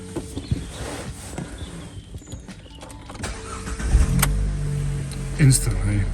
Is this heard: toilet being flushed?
no